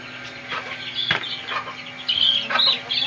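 Chickens cluck in short, scattered bursts with a few sharper squawks, fairly close, over a faint steady hum.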